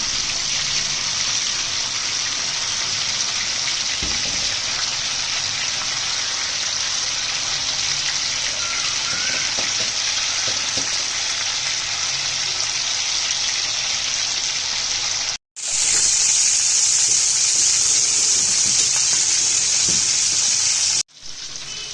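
Chicken tikka boti pieces frying in a pan, a continuous close crackling sizzle with small pops, briefly cut twice, and brighter and louder after the first cut, no talking.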